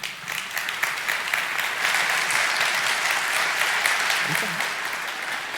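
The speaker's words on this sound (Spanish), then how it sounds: "Que se sienta aún muy fuerte el aplauso para nuestro querido expositor" An audience applauds a speaker after a masterclass talk with steady, full clapping that holds throughout, and faint voices murmur beneath it.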